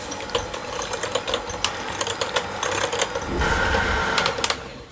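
Eggs and sugar are beaten for carrot cinnamon muffins, a close, busy rattling whir of whisking with irregular clicks against the bowl that grows denser and steadier toward the end.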